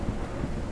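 A brief low rumble of thunder follows a lightning strike in the video game Forever Skies, dark and heavy with a faint rain-like hiss beneath it.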